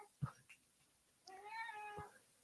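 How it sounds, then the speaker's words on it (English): A pet cat meows in a drawn-out, wavering call nearby, faint and soft, preceded by a few small thumps in a quiet room. "Is he meowing? Can you hear him? Yeah, but it's a cute meowing."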